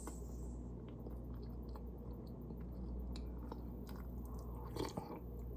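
Roast yam chewed close to the microphone, soft wet crunching and mashing bites at an irregular pace over a low steady background hum, with one louder bite near the end.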